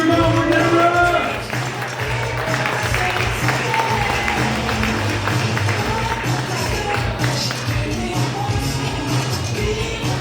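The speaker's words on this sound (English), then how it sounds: "Keep that applause going, ladies and gentlemen." Audience applause for Deborah at a Direct Marketing Club of New York award ceremony, a loud, steady wash of clapping that holds through the whole stretch with no talking over it.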